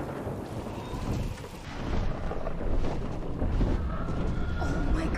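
A thunderstorm in a House of the Dragon episode rages as a dense, steady roar of wind and rain, with a deep rumble swelling partway through and staying loud to the end.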